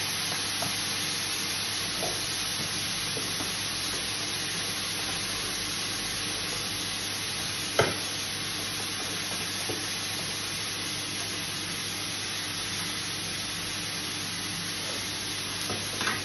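Lamb kaldereta sizzles loudly and steadily in a frying pan, a dense, continuous hiss with one brief clink partway through.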